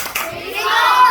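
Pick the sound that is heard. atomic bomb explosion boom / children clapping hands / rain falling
children clapping hands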